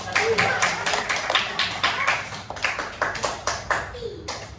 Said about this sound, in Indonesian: Tepuk tangan dulu buat Dede